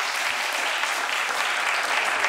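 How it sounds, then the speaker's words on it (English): Steady audience applause at a hypnosis stage performance, a thick, even roar of clapping that holds at constant loudness throughout. "give her a big round of applause"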